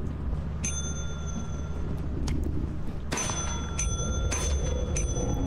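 Bell rings in the video game Lethal Company, a bright bicycle-style ding struck twice with sustained ringing tones over a steady low rumble, no talking.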